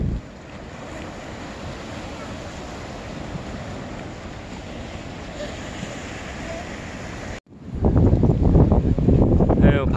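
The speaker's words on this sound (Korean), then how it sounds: "바람이 많이 붑니다." Strong wind buffets the microphone at Sunset Beach in Okinawa, a loud, continuous roar that surges even harder near the end, with surf churning underneath.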